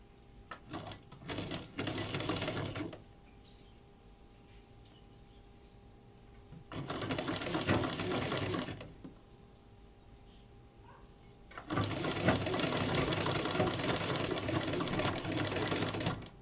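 Sewing machine stitching fabric in a home tailoring class, running in three long bursts with quiet pauses between, the last run the longest and steadiest.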